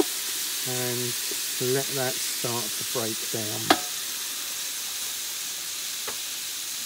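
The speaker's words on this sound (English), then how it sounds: "chuck that veg in, all the way in there, and again, just stir that in" Chopped vegetables stir-fry in a Vonshef electric pan for a sticky chicken stir fry, giving a steady close hiss and sizzle. Someone talks over it in short bursts, and a sharp clink or scrape stands out partway through.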